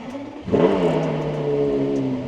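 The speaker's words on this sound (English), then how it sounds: "We're gonna do a cold start." A Porsche race car engine cold-starts, cranking and firing up with a sudden roar, then settles into a loud, steady, rumbling idle close by through an Inconel exhaust.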